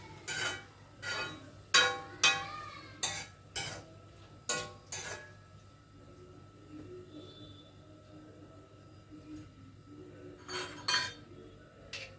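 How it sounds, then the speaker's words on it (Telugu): A spoon clinks and scrapes against a cooking pan while tomatoes are stirred with ginger paste on low heat, about a dozen close metallic knocks in two clusters separated by a quieter stretch. "టమోటాలు వేసి సిమ్లో పెట్టి బాగా కలుపుదామండి"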